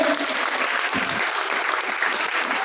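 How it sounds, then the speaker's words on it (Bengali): A seminar audience in Baharampur applauds a senior company adviser as he comes to the stage, with dense, loud, continuous clapping from many hands close by. "একবার হাততালি জোরে সবাই মিলে।"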